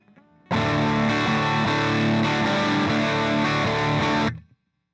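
Heavily distorted guitar riff through an Axe-FX III amp model using 300B power tubes, starting after a brief quiet moment, then loud and sustained with rhythmic chord hits before cutting off.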